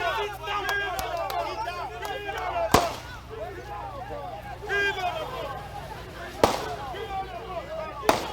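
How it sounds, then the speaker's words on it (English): Sharp gunshots crack out several times at irregular intervals during a protest in Nigeria, cutting through a noisy crowd with shouting and voices throughout. "Just see how they are shooting"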